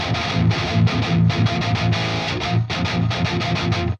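An electric guitar plays palm-muted chugs through default amp and cab plugins with no effects, a loud, distorted, rhythmic chugging pattern with brief pauses between bursts.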